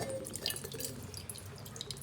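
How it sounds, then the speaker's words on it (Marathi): Water drains from a drilled coconut into a pot with soft, faint trickling and a few light, irregular drips close by. "एक तांब्या भरून पाणी निघते का बघूया आपण."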